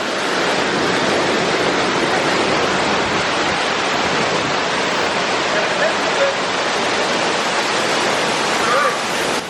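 Rainbow waterfall at Kaithapara roars as a constant, loud wash of rushing, crashing water, broad and unbroken from start to finish, with no other sound standing out above it.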